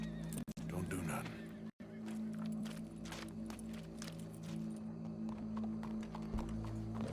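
Horse hooves clip-clop in the Red Dead Redemption video game over a steady low hum and background din, with a horse whinnying at one point. Voices can be heard during the clip.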